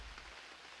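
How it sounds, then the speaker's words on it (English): Soft, steady rain falls continuously in the Unreal World survival game, a faint even hiss of drops on surfaces with no other sounds. "it is raining right now"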